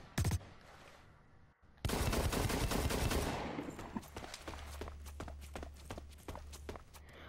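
Gunfire from the video game BlackLight: a burst of sharp shots, a pause, then a loud dense volley that trails into scattered single shots and footsteps, fairly faint overall.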